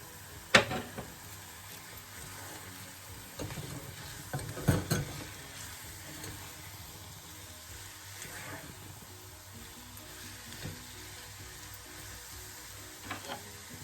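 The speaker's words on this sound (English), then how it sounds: "So I'm going to go in now with the fresh sweet pepper. And I'm going to just let this all fry down, basically." Fresh sweet pepper frying in a pan for a pepper sauce, a low steady sizzle with occasional stirring knocks and scrapes scattered through, no talking.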